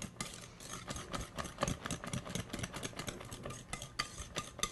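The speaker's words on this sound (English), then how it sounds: "Now I'm going to whisk this together by hand," Brownie batter is whisked by hand in a bowl, a fast rhythmic series of scraping, clinking strokes against the sides, close and fairly loud with no talking.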